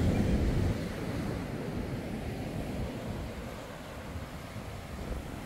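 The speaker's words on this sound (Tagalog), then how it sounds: "ang kasama mo lang are sounds of waves, wind, nature" At Dinadiawan Beach, surf and wind blend into a steady, broad roar of breaking waves. It is slightly louder at first, then settles into a constant wash, with no voices.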